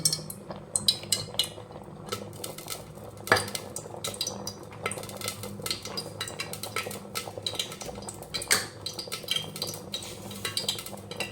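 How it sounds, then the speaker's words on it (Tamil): Mushrooms being sautéed for a Tamil mushroom curry, with a spoon scraping and clinking against the pan in steady irregular strokes and a faint sizzle beneath, close and alone without speech. "அடுத்தது காளானை வணக்கி விடணும்."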